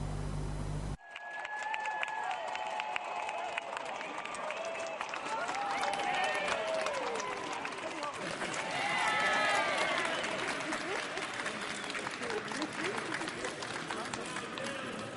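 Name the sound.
applause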